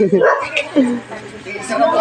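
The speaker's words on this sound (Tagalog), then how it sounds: "Nagalit yung aso." A dog barks and yips in short bursts close by, mixed with people talking over it.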